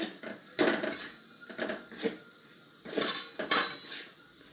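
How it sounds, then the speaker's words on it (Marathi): Puffed rice ladoo mixture stirred fast in a pan off the heat: a series of sharp metallic scrapes and clatters of a spoon against the pan, coming in irregular bursts close by. "चांगलं याला फास्ट हलवून घ्यायचं"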